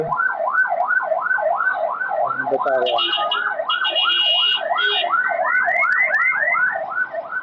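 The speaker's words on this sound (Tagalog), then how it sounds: "Pag-give way ang kotse, give way tayo sa ambulansya." An ambulance siren wails continuously with a steady rising and falling sweep, loud and close as traffic gives way, while a person speaks briefly over it.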